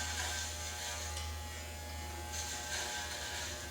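Electric hair clippers fitted with a 1 inch guard buzz steadily while cutting a boy's hair, a close, constant motor drone with no talking.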